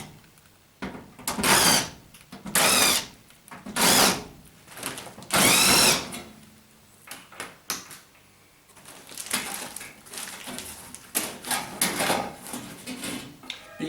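A power drill backs screws out of the rear panel of a White Knight tumble dryer in four short, loud whirring bursts, each followed by quieter clinks and handling noises nearby.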